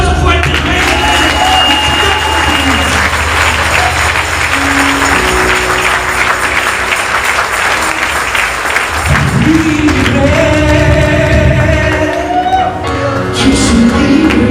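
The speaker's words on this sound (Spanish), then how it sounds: "Denle un aplauso fuerte al Rey de Reyes." A church congregation claps and cheers in a sustained, loud wave of applause, mixed with voices and shouts throughout and ending in louder crowd noise.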